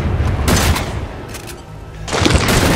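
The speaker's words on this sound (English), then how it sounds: "Let's keep shooting." Gunfire in the survival-horror game Resident Evil 7, loud bursts of shots with handgun or shotgun booms, two dense volleys separated by a quieter gap, heard without talk.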